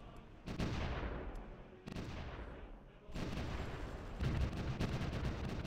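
Artillery fire in the First World War strategy game Supreme Ruler The Great War, with several booming blasts, each followed by a rumbling decay, set against a constant rough background.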